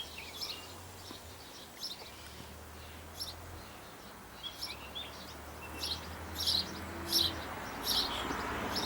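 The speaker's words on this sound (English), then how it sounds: "So that's the male sparrow there." Sparrows chirp in short, bright bursts, growing a little busier toward the end, over a soft, low background hum.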